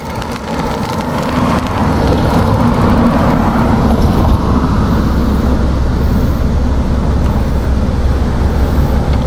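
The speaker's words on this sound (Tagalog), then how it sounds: "Traffic guys, traffic." Steady, loud road traffic noise heard from a bicycle in a Korean city, a dense continuous rumble of passing cars and buses with no clear breaks.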